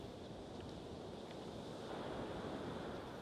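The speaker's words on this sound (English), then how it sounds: "And I go to the sea." Sea waves wash continuously under a steady wind, a constant rushing roar with a slight swell toward the end, heard alone without voices.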